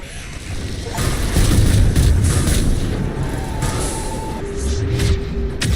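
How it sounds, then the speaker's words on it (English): A sci-fi explosion in the Mass Effect 3 video game, a loud rumbling boom that swells in after a second and sustains as a heavy low roar with shifting debris noise. "Explosion!"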